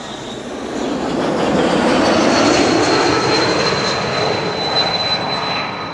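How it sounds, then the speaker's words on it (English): A KLM Embraer 195-E2 jet arriving at Amsterdam Schiphol Airport, a loud, steady broadband engine roar with a high whine that holds for several seconds. "This is KLM Flight 1004 arriving from London Heathrow. It's an E2 Embraer 195"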